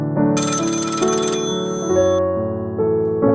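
A telephone ringing at night, a loud, steady electronic ring with bright repeating tones filling the moment, heard alone without voices.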